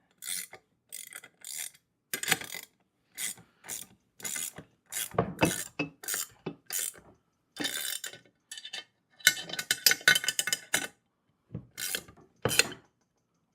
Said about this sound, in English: let me get another wrench so we can tighten it down a little bit better